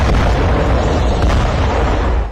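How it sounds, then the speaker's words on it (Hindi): A single loud, deep boom from an air strike explosion in Beirut's VVIP district in Lebanon, heavy low rumble sustained for about two seconds. "लेबनान की राजधानी के वीवीआईपी इलाके में हुआ धमाका इतना भयानक था"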